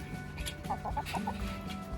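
Chickens at an allotment give a short run of soft, rhythmic clucks, about five in quick succession, close by over a steady outdoor background, with no talking.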